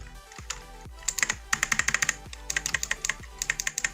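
Keys on an Ozone Alliance mechanical gaming keyboard clack in quick irregular bursts, close and crisp, with a low thump after some presses and short pauses between runs of typing.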